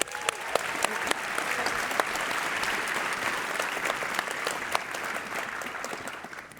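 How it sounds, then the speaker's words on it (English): A conference audience at Canva Create 2022 applauds loudly and steadily. The clapping is dense and sustained, then fades slightly at the end. "we're going to give another big round of applause"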